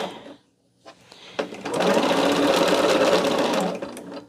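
A sewing machine straight-stitches quilt rows together, starting with a few slow clicks before settling into a fast, steady mechanical whir heard close and alone.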